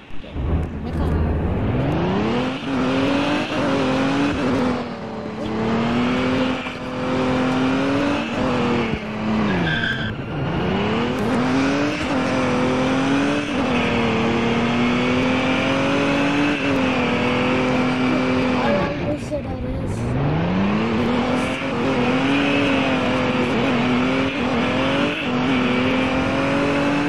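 A car in the Roblox game Emergency Response: Liberty County drives with a steady loud engine drone that rises and falls as it revs and shifts, with occasional tire squeal, continuous throughout.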